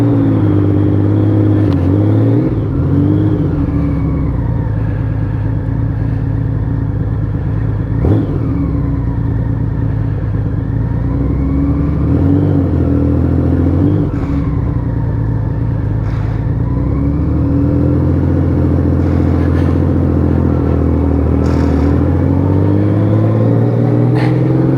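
A Honda Valkyrie 1500 motorcycle running its 1500 Gold Wing engine after a rebuild, heard while riding: a loud, steady, deep engine drone with rising and falling revs and gear changes, close and continuous.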